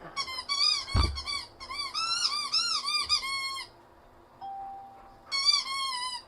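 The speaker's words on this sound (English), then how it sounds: "Okay, with that squeaky toy, I'm awake." A dog squeaks a squeaky toy in a run of loud, high squeals, two long bursts with a short gap and a final burst after a pause, plus a thump and a faint steady tone between them.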